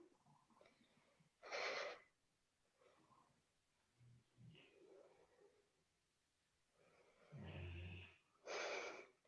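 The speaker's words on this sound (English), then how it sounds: "if you can hear my dog snoring" A dog snoring nearby in a quiet room: soft, breathy snorts and wheezes arrive in irregular bursts, several louder rasping breaths separated by faint pauses.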